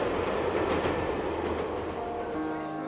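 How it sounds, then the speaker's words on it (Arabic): Rumbling trains and clattering railcars fill Hakata station in Kyushu, Japan, a steady, fairly distant rail din with no voices on top. "أولا عدنا إلى محطة هاكاتا"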